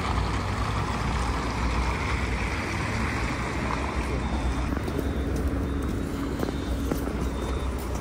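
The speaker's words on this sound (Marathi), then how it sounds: "जाम हवा सुटले" Strong outdoor wind roars steadily and loudly throughout, a dense continuous rush with no speech over it.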